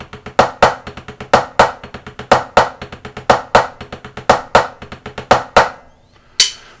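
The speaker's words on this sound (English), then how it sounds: "a six-stroke roll has 6 strokes in it." Six-stroke rolls are played on a snare drum, repeated as quick grouped strokes with sharp accents in a steady rhythm. The drum is loud and close, the last group is followed by a short pause and then one final hit.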